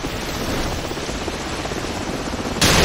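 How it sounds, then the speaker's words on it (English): A helicopter rotor roars steadily in the video game Call of Duty 4: Modern Warfare, a dense, loud, chopping wash that continues throughout and grows louder and brighter in the final moments. "The helicopter's back."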